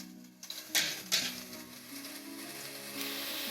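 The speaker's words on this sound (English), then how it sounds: "I'm now gonna just add in my tomatoes and my spices and just let it fry" Tomatoes and spices dropped into hot oil for an Indian-style duck curry burst into a loud sizzle with a couple of sharp splattering surges, then settle into a steady, even frying hiss.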